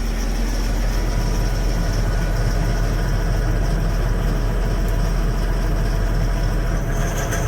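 A tractor engine idles steadily while warming up after a cold start, a continuous low rumble with a constant hum, close and alone without talk.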